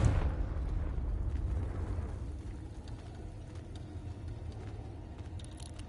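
Confringo fire spell blast in Hogwarts Legacy on PS5, a loud rumbling burst that fades into a sustained low fiery roar lasting several seconds, with no speech.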